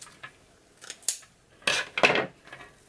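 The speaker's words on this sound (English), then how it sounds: "I'm going to repeat the same steps on the inner row. Right, so I'm just going to cut" Scissors cut deco mesh for a spring polka-dot wreath, a few crisp close snips and slicing rasps spaced out over a quiet background.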